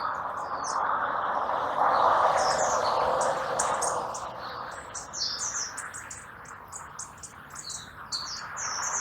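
Several birds hopping around a pomegranate tree, giving a continuous stream of high, quick chirps and tweets over a soft broadband hiss that fades after a few seconds.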